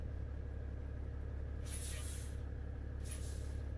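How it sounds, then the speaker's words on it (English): Truck air brakes in Euro Truck Simulator 2 release two sharp hissing bursts, the first longer and the second shorter, over a steady low engine drone. "the air brakes are good. Got a nice sound, haven't they?"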